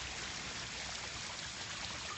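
Steady trickling and bubbling from ceramic water features in a showroom, a faint, even wash of running water with no talking.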